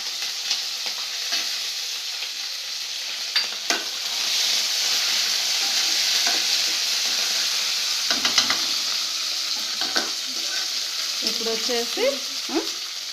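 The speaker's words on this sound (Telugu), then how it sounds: "పచ్చిమిరపకాయలు ఇవి కూడా ఫ్రై అయిన తర్వాత కరివేపాకు, కొత్తిమీర వేసుకుందాం." Green chilies, curry leaves and coriander fry in hot oil for coconut rice, giving a steady close sizzle and hiss broken by clattering stirs and scrapes, busiest in the later part, with no talk.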